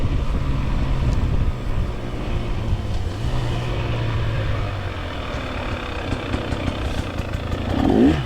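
A KTM 300 XC-W two-stroke dirt bike engine runs and revs at a hare scramble race, a steady loud drone that swells in pitch toward the end.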